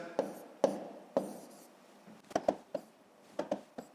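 Pen strokes writing numbers on paper for a long-division exercise, a series of short scratchy marks in irregular bursts, close and alone.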